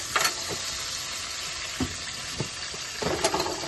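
Chopped tomato goes into a hot frying pan for a Kerala-style fish curry and sizzles steadily. The frying hiss runs throughout, with a few louder bursts and stirring scrapes near the start and end.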